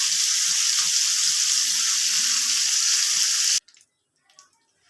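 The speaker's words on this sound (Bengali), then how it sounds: "মাছগুলো সব কড়াতে দিয়ে দিয়েছি। এবার একটু সাঁতলে নেব" Gangdhara fish sizzle loudly in a wok, a dense hissing fry that holds steady for several seconds and then cuts off abruptly, leaving only faint scattered clinks.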